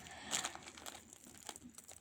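Plastic packaging crinkles and rustles as a parcel is opened by hand, with close, irregular crackles and a brief tearing sound.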